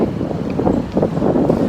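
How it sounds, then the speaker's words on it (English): Spring wind gusting along a cherry-blossom avenue in Tokyo, a steady loud rushing buffet against the microphone with slight surges, no speech. "It's also a little bit windy."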